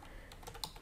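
Quick, light keystrokes on a computer keyboard, a short burst of clicks with one sharper tap near the end, close and faint. No talking.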